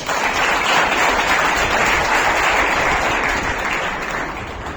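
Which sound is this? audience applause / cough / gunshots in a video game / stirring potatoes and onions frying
audience applause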